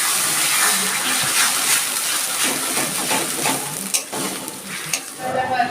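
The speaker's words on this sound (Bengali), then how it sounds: "আমি এখন থোরটা দিয়ে দিচ্ছি" Banana stem paste dropped into a hot pan with nigella seeds, giving a loud, continuous sizzle and frying hiss, with stirring scrapes scattered through it, close and steady throughout.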